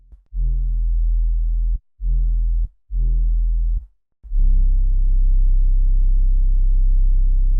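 A deep trap soul bass synth with chorus plays three short sustained notes, then a longer held note that wobbles with slow movement, loud and alone.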